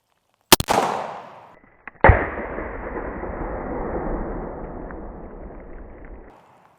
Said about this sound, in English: moving on to 44 Magnum. This is actually the first time I get to shoot this